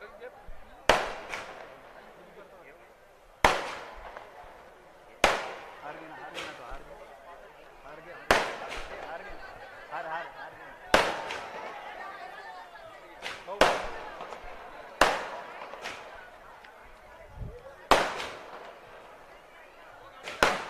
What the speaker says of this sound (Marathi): फटाके जे चालू आहे ते बंद करा.